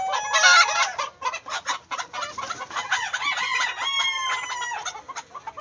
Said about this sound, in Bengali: দেখেন কত সুন্দর সুন্দর মোরগ, সোনালী মোরগ।